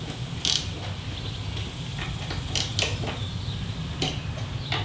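Upper handlebar clamp bolts on a Harley-Davidson being snugged by hand, giving soft metallic clicks and a few brief sharp ticks at close range over a steady low background hum.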